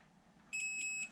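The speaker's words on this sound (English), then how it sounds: "I'll put my multimeter on continuity setting where it beeps" A multimeter set to continuity gives one steady electronic beep lasting about half a second, clear and close, over a faint background hum.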